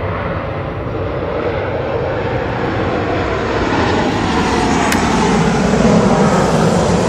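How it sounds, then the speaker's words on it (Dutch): An airplane passes overhead near a campground, its engine roar building gradually into a loud, broad rumble that swells toward the end. "Er komt een vliegtuig."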